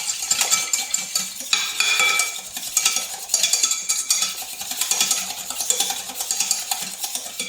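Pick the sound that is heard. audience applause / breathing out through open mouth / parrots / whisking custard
whisking custard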